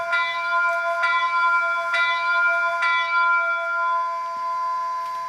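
A model steam locomotive bell from a DCC sound decoder, for a CPR H1b Hudson 4-6-4, clangs four times at a steady, even pace, each stroke ringing out clear and bright before fading, with no other sound around it.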